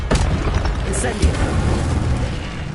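Incendio fire spell being cast in a Harry Potter game on PS2, a sustained roaring, booming burst with crackling bursts throughout, loud and continuous for the whole stretch.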